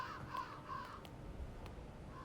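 A crow in the Siren Head video game caws twice in quick succession, a harsh, mid-loud call over a steady low ambient drone, followed by a few faint clicks and a softer caw near the end.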